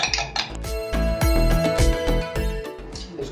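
Beaten egg seasoned with red chili powder and salt is whisked in a bowl, with a utensil clinking and scraping against the sides in quick, close, irregular strokes.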